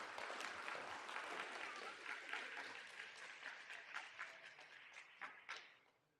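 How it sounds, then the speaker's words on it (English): Audience applause at a ninth-grade school presentation, dense, steady clapping from a sizable group that gradually thins and fades toward the end, heard from a moderate distance. "One more round of applause."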